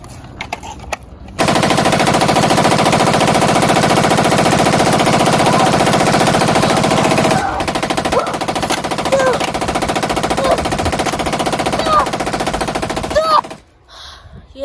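Sustained, loud rapid-fire bursts from a military gun in a zombie video game, continuous for several seconds, then a shorter run of individual shots before it stops.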